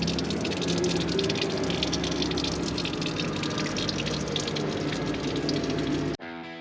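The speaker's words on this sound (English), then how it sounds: "Here he is, draining the oil." Oil draining from a Hitachi ZW180-5B wheel loader during an on-site 250-hour service, a steady gushing liquid pour heard close and continuous for several seconds before it cuts off abruptly.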